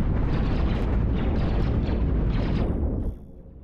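A swarm of tiny plasma rocket missiles in Cosmoteer, a dense, continuous barrage of rapid popping blasts and rumbling detonations for about three seconds before cutting off into a faint tail.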